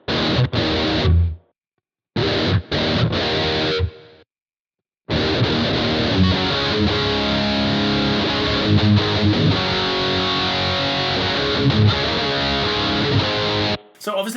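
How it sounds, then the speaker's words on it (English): An electric guitar played through a BOSS GT-1000 multi-effects unit sounds with a distorted, effected tone, cutting out briefly twice early on before a long sustained stretch of playing as the reverb is switched. "So now when I press that, it's only gonna be the reverb that's changing there."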